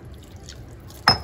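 Water poured lightly into a cooking mixture that has chana dal in it: quiet kitchen background, then one short, sharp splash near the end.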